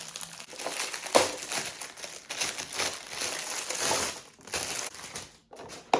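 Plastic packaging around a Tupperware-style colander box crinkles and crackles up close in irregular bursts as it is pulled open, with no talking.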